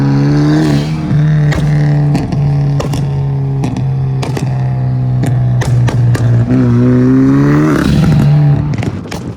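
A 2025 Hyundai Elantra N fitted with a blow-off valve revs hard and loud, its steady engine drone broken by repeated sharp whooshing bursts and clatter, with no voices over it.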